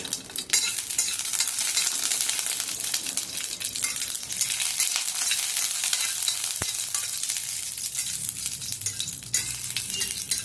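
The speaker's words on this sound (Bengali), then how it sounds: "এই যে শুকনো লঙ্কাগুলো ভেজে নিচ্ছি" Dried red chillies fry in a pan with a dense, continuous close-up sizzle, loud and even throughout, with scattered stirring scrapes and a single light clink near the middle and no voices.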